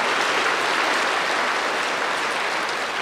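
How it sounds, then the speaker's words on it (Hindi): Audience applause fills the room at a religious discourse gathering, a dense, steady wash of many hands clapping together, loud and sustained with no voices over it. "वो अपने लिए जोर से ताली बजाओ, और दूसरे भी उनके लिए ताली बजाओ"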